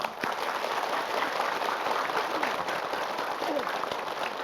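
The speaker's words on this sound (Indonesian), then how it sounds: "Tepuk tangan dulu." An audience at a televised Islamic religious lecture breaks into steady, sustained applause, a dense wash of clapping that holds evenly at moderate volume for the whole stretch.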